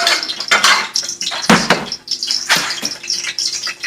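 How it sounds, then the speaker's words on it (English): Metal lid set onto a cooking pan of popping, spattering food, with clattering pot-and-lid clanks and a sharp knock near the middle, close and fairly loud over steady sizzling. "I'm going to put a lid over this because it's popping me"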